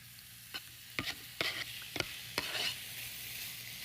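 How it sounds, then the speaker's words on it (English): Pork hits a hot skillet, giving a faint sizzle under a series of sharp scraping and stirring clicks from a utensil against the pan. "You want to hear that sizzle."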